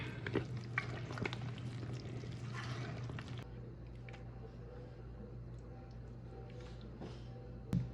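Salsa being mixed into a chicken tamale filling, with a soft wet stirring and scraping for the first few seconds, then a faint low hum with occasional light clicks.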